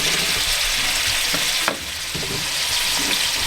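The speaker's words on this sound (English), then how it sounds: "so we're just going to brown up our meat now" Chunks of lamb neck brown in hot ghee in a large pan, giving a loud, steady close-up sizzle with a brief stir or scrape partway through.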